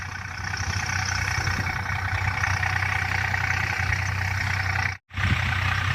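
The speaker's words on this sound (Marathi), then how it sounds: "इथं आलेलं आहे आपल्या वावरात ट्रॅक्टर नांगरणीसाठी" A tractor engine runs steadily in a farm field where it has come to plough, a loud, close, continuous diesel drone that drops out briefly near the end, then resumes.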